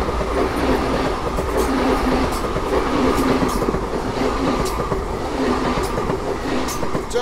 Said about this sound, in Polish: I lokomotywa Green Intercity Wybrzeże.